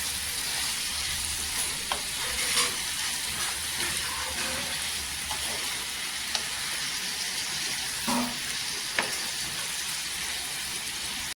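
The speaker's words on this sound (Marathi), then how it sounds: "इथे तेलावर आहे ना छान अशी भाजी परतून घ्यायची." Shredded cabbage sautés in oil in a pan on the stove, giving a steady, close sizzle and frying hiss that runs throughout, with occasional stirring scrapes and small clatters.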